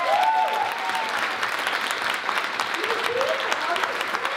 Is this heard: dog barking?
no